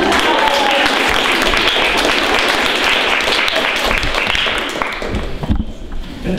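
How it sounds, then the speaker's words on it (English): Audience applauding at a panel discussion on peacebuilding and the arts, a dense, steady wash of clapping that thins and fades toward the end. "You may applaud"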